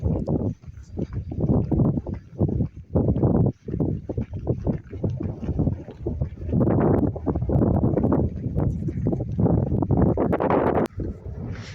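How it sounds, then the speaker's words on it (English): Strong outdoor wind on a beach at Tonfanau buffets the microphone in continuous gusty rumbles, with brief lulls, loud and close throughout. "Not sure how much you're going to be able to hear because it's pretty windy"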